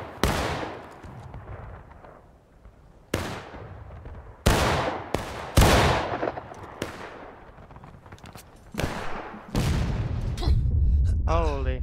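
Musket and artillery gunfire in the Civil War video game War of Rights, with repeated loud, sharp cracks and booms, some close and some farther off, spaced irregularly over a steady battle rumble.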